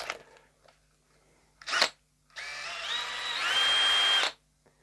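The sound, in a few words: drill with metal drill bit drilling guitar body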